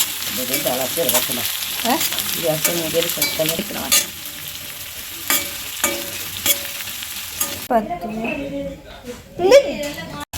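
Food frying and sizzling in a pan at a home birthday celebration, with stirring clatter and voices talking over it, the sizzle growing clearer in a quieter stretch near the end.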